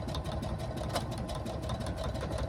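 A sewing machine stitching fabric runs steadily with a dense, rapid mechanical whir and buzz, continuous and close, with no voices.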